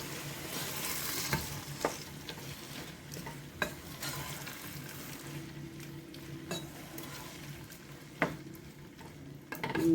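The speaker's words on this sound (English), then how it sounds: "I'm just going to add in my my diced tomatoes." Diced tomatoes stirred and cooking in a pot of egg and vegetable stew, giving a steady low sizzle with occasional utensil scrapes and clinks against the pot.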